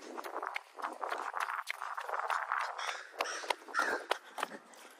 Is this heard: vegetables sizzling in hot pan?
no